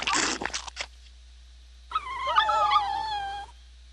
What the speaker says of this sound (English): Deadly piranha poodles. They're waiting for us.